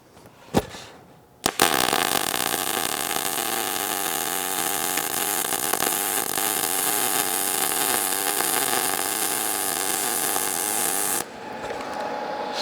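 A MIG welder arc running steadily on metal, a close, continuous crackling hiss lasting about ten seconds after a couple of sharp starting pops, then cutting off abruptly to a quieter hum, with no talking.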